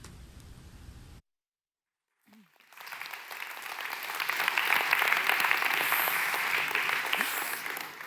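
Audience applause at a CEO pitch festival, rising from a quiet gap into a dense, sustained wash of clapping that grows louder and holds steady to the end.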